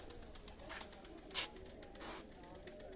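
A golden and dab cross pigeon coos softly on a rooftop, a few low, faint calls over steady background noise with light chirps.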